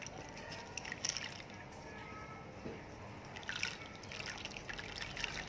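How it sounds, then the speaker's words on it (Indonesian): Water runs and trickles into a cooking pot holding washed, peeled mung beans, a steady low splashing pour with a few brighter drips, close by and fairly quiet. "Langkah pertama adalah masukkan airnya ke dalam panci bersamaan dengan kacang hijau kupas."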